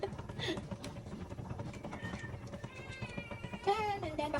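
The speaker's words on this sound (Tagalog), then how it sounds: "Ang ating na namang alagang pusa ay nanghingi na naman ng pagkain." A pet cat begs for food with a few wavering meows near the end, heard over a busy kitchen background of cooking noise and clatter.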